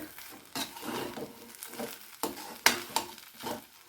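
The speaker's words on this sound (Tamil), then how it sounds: "அந்த மசாலா வந்து சும்மா ஒரு வதக்கி இந்த ஆனியன் இந்த கேரட்டு ஒரு வதக்கு" Onion and carrot sauté with masala in a pan for a veg cutlet, a soft sizzle broken by irregular stirring scrapes and spatula taps against the metal, close and fairly quiet, with no voices.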